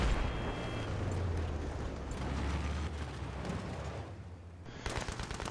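Gunfire in Battlefield 3 rattles in a dense, continuous burst of shots and explosions, loud and crackling throughout, easing briefly near the end before resuming.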